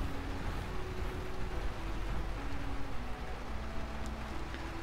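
Steady rain in the video game Lightyear Frontier, a soft, even hiss of falling drops on surfaces that carries on throughout at moderate level, with no voices over it.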